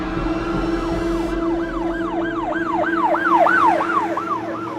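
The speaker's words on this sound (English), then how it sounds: "police sirens rang" A wailing police siren rises and falls in a steady repeating sweep, loud and close, over a constant low drone in a chaotic city street scene of a horror survival story.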